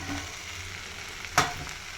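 Grated coconut sizzles as it goes into a hot pan with green chillies for anapa ginjala pulusu, a faint steady frying hiss with one brief louder burst as it lands.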